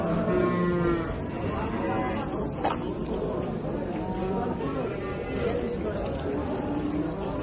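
Calves and cattle low at a busy livestock market. Several drawn-out moos rise from a dense, constant crowd murmur, with people bargaining and chattering throughout.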